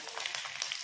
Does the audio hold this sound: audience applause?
no